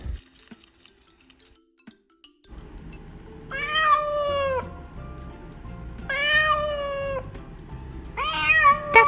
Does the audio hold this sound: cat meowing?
yes